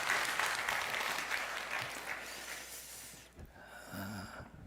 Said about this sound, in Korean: 크게 박수 한번 해주셔요